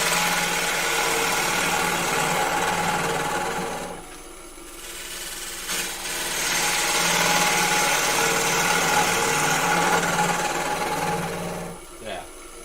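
A woodturning gouge cuts into a spinning workpiece on a lathe while a sphere is shaped, giving a steady, loud whirring scrape that dips briefly and then resumes, with a short clatter near the end.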